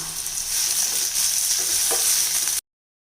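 Steady, close sizzling of salted brinjal sautéing in a hot pan for thokku, with faint stirring, cutting off abruptly into silence.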